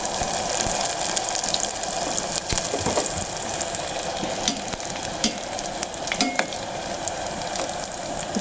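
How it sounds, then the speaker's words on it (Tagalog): Continuous hissing sizzle of hot oil frying banana blossom spring rolls (lumpia), with scattered sharp pops and spatters over the steady crackle, close and fairly loud. "Titilagsik na po ang mantika."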